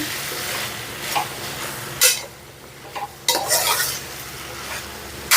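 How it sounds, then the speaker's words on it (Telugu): A spoon scrapes and clinks as a brinjal and moong dal curry is stirred in a pot, with a soft sizzle beneath and several louder scraping bursts, no talk. "బాగా కలపాలండి."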